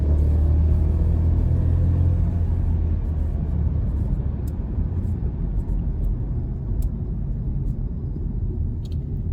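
A VW Polo TSI pulls hard in first gear in manual mode, a steady deep engine roar and road rumble heard from inside the car, holding strong throughout with a few faint clicks.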